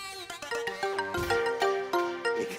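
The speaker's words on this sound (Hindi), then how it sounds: "फोन आ रहा है।" A melodic electronic ringtone plays a quick tune of bright, bell-like notes, fairly quiet and close.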